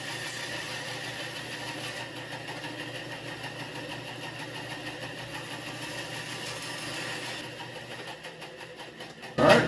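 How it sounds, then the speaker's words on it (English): A bandsaw runs steadily with a continuous motorized whir and faint rattle while cutting a small piece out of a DIY chicken brooder top, ending with a short louder clatter. "gonna take this over to the bandsaw"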